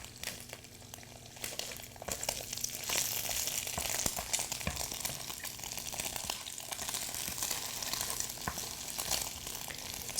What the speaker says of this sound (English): So we have to fry like this